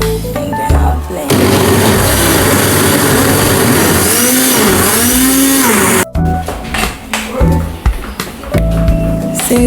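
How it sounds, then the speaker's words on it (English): Electric blender whirring through onion, garlic and ginger with water for shito: a loud, steady roar for several seconds that stops abruptly, followed by clattering kitchen sounds up close. "And then I'll blend."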